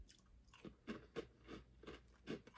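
Crunchy bites of grapefruit-flavored Lay's potato chips from China, several loud close chewing crunches in an irregular rhythm with no talking.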